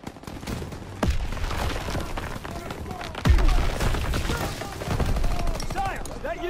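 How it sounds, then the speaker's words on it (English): Rapid bursts of gunfire and booming blasts fill a noisy battle scene in Call of Duty: WWII, with shouting voices mixed in and sharp loud shots standing out. "Gunfire!"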